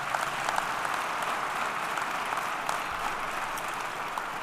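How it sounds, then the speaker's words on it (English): Audience at a police department awards ceremony breaks into steady, sustained applause, a dense even wash of many hands clapping throughout with no pauses. "So let's give Chief Maurice Cullinane a round of applause."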